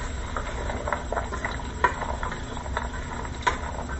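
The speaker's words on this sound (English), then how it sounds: "Andouille sausage, and bacon. And I'm going to fry that all up" Andouille sausage and bacon frying for gumbo, with a soft steady sizzle and faint crackle, stirred with a few clinking utensil taps, close and quiet.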